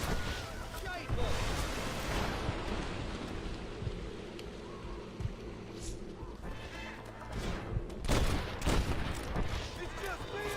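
Enemy gunfire raining down from a clifftop in Red Dead Redemption: a continuous, fairly quiet fusillade of overlapping shots and cracks, distant-sounding, with shouting voices mixed in.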